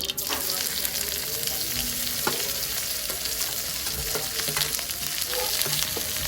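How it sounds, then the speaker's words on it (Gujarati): Shredded cabbage and carrot fry in oil in a kadai tempered with mustard seeds, making a continuous, fairly loud sizzle with light stirring scrapes mixed in. "અંદર નાખશું કોબીજ અને ગાજર."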